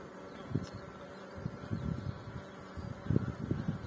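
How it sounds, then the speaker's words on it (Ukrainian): Honeybees buzz softly around the hive as they cluster over a newly introduced queen, in uneven bursts, a low drone rising and falling close by with faint background hum. "Зараз її бджоли вже облітають, обліпають."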